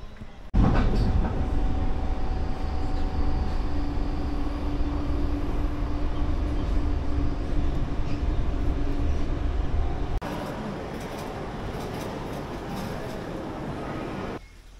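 A train heads for the airport in Singapore, giving a loud, steady rumble with a sustained hum throughout. The tone shifts slightly near the end as the ride continues, and no one speaks.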